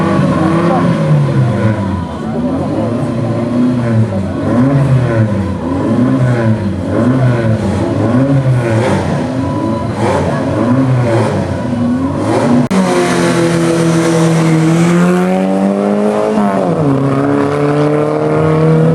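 A Renault 12 TS Gordini accelerates hard up a historic hill climb course at Salins-Thésy. Its engine revs loudly and close, rising and falling through repeated gear changes, then surges into a higher, sustained howl.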